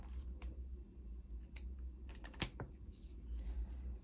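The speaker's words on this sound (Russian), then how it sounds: "Вот эту нитку можно отрезать." Scissors snip through crochet yarn while a granny square is being worked, giving a few quick, close clicks and crisp cuts over a low room hum, with no talking.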